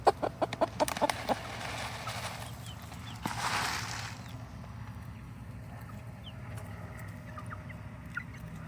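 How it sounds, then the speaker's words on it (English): A hen clucks in a quick series of short, soft clucks near the start, then quieter background with a few faint scattered sounds. "She makes that little cluck cluck noise"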